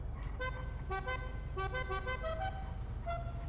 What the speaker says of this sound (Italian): vai Steph, prego, suona il clacson.